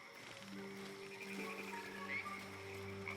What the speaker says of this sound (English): Hey, frog.